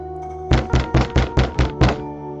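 Seven heavy, evenly paced thuds of knocking on a wooden door, loud and close, over a low steady background drone.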